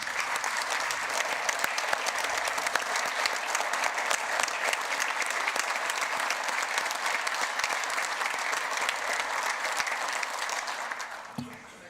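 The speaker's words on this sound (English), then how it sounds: "Let's give them a round of applause." A room at a South Dakota legislative hearing fills with sustained applause welcoming the Girl State Governor, many hands clapping steadily at moderate loudness for about eleven seconds before tapering off at the end.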